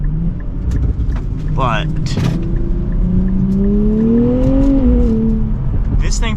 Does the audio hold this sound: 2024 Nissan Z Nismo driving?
yes